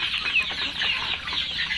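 A flock of two-to-three-month-old native Thai chickens clucks and chatters steadily while feeding, a dense, continuous mix of overlapping calls with no talk.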